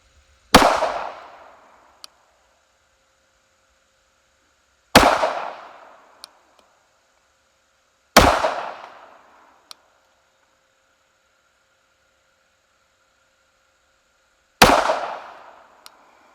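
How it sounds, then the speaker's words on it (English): Four sharp pistol shots from a SIG Scorpion Carry firing Blazer Brass ammunition, each a loud crack with a short decaying echo, spaced a few seconds apart with the third and fourth gaps longer. "let's see how this pistol is going to shoot."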